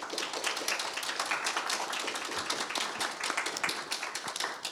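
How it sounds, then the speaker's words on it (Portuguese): Audience applause after a panel discussion on elections, AI and technology governance, a continuous wash of clapping at moderate volume without a break. "gostaria de pedir uma salva de palmas de todos aqui presentes"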